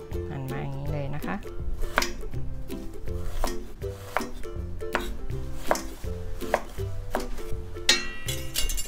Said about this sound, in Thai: เราจะมาหั่นตัวมะเขือยาวกันนะคะ